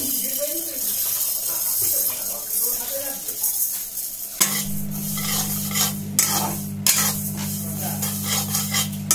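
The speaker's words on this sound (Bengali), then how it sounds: "এই যে কড়াই বসিয়ে দিয়েছি মুগের ডালটাকে ভেজে নেবো" Moong dal being dry-fried in a kadai, with a steady sizzle and the scrape and clink of a stirring utensil that turn louder partway through. A voice talks over the softer opening.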